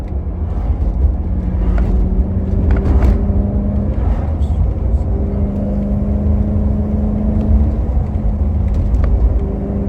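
The high-revving V8 of a BMW E90 M3 with a swapped six-speed manual drones steadily from inside the cabin while driving, a loud, constant engine rumble with a faint whir and no talking.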